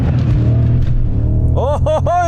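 A BMW E39 M5 running on E85 ethanol, its engine giving a deep steady rumble, then revving in three quick rising-and-falling bursts near the end.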